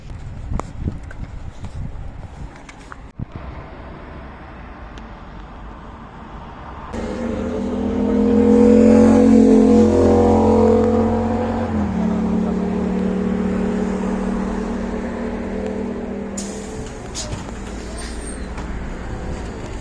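A city bus in Seoul, South Korea rumbles and idles with road noise, then its engine rises into a loud droning pull-away that settles into a steady ride, with brief clatter and hiss along the way.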